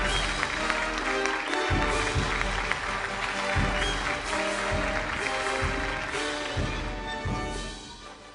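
A big round of applause from the audience at the ACETECH 2015 awards ceremony in Mumbai: dense, steady clapping that fills the room throughout, with a few louder individual claps standing out before it tapers slightly at the end.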